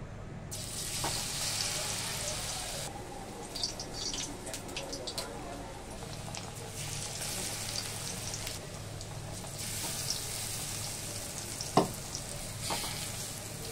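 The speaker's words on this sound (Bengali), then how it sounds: "গ্যাসটা কমিয়ে এটা ভাজবো।" Pointed gourd (potol) slices coated in a thin gram flour batter fry over a lowered gas flame, giving a steady close sizzle throughout with occasional faint utensil clinks.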